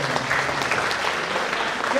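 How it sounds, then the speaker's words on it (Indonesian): Seminar audience applauding in a hall, a moderate wash of clapping with voices mixed in underneath throughout. "Tepuk tangan dulu dong."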